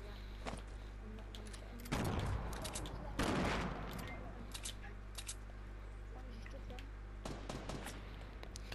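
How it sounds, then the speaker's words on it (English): Gunfire in a Fortnite battle royale match: a few bursts of shots, a loud one near two seconds and another just after three seconds, with scattered sharper cracks over a low steady game hum. "They're getting shot at."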